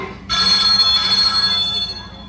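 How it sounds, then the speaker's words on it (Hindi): A telephone rings in a family home while guests visit, a clear bright electronic ringing that starts suddenly after a brief quiet moment and keeps going steadily, close and loud. "सूरज बेटा, देखना तो किसका फोन है?"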